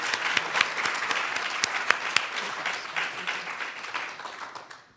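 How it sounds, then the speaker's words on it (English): An audience at a pediatric nursing forum applauds an expert panel, a full round of clapping with a few sharp nearby claps standing out, fading gradually toward the end. "Let's give them a big round of applause."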